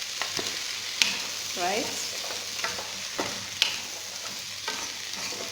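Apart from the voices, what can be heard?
stirring vegetables frying in a pan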